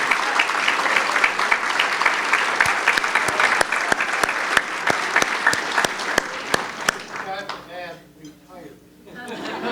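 A packed room at a member recognition awards gathering breaks into steady, dense applause for several seconds, with a few chuckles. The clapping then fades into murmuring.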